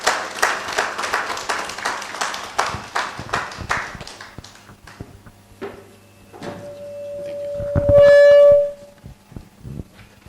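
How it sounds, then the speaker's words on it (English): Audience at an official business launch in Ghana applauding to welcome a speaker, dense clapping that thins and fades over several seconds, then quiet room noise and a loud, brief high ringing tone. "Let's welcome him with a round of applause, please."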